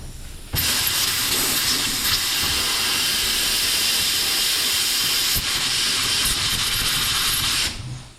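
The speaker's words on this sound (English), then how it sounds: "I want to blast out the washer jets on this with some compressed air" Compressed air blasts through a car's windscreen washer jets in one loud, continuous, close hiss lasting about seven seconds, starting and stopping abruptly, with a faint click partway through.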